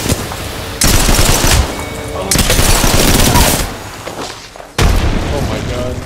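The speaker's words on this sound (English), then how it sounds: "Getting shot in the back by another team." Gunfire in a shooter video game, with bursts of rapid shots arriving in loud waves, including from behind, mixed with booming impacts across a few seconds.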